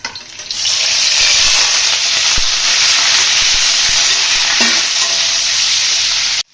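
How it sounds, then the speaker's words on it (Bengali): Paneer cubes fry in hot oil with whole garam masala, cardamom, cinnamon and cloves, making a loud, bright, continuous hiss close up that cuts off sharply at the end. "পনিরগুলো একটু ভেজে নেব।"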